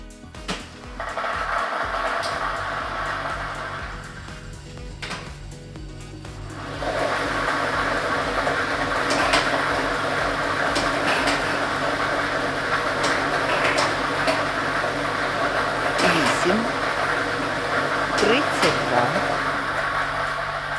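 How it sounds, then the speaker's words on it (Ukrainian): A lottery draw machine with a set of numbered balls starts up during a televised Ukrainian state lottery draw, giving a loud steady whirring rumble with faint rattling once it gets going, after a stretch of announcer speech. "І ми вмикаємо лототрон."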